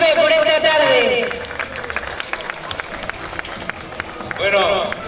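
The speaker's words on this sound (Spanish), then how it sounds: "Fuerte el aplauso para el alcalde de Benimamen." A street-parade crowd in Benimàmet applauds its mayor, a steady burst of many hands clapping outdoors, with a voice over the start and talk resuming near the end.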